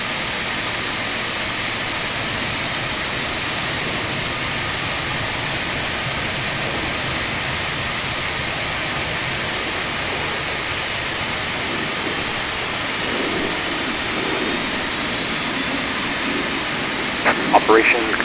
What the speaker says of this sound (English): we'll take it outside so you can see engine number 2 now starting